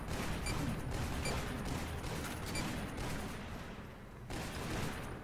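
Sustained, rapid gunfire against bots in the first-person shooter Toxikk, a dense continuous barrage of shots with brief dips and a short gap before firing resumes.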